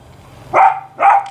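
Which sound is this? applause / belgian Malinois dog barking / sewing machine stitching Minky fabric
belgian Malinois dog barking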